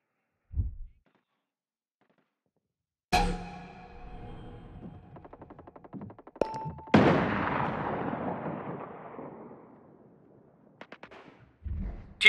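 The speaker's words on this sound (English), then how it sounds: "Hostiles are shooting." Gunfire in the video game Ghost Recon Breakpoint, with a DMR in use: a few isolated, loud, close shots with ringing, decaying tails separated by silence, plus mechanical clicks.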